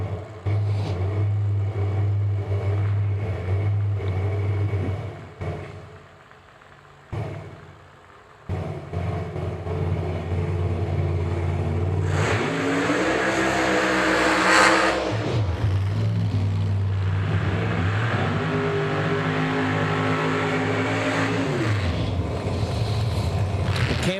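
1969 Camaro with a big 5.3 bore-space nitrous engine at a drag racing event, loud engine roar with a brief drop near the start, then cars launching and accelerating hard with rising revving sweeps.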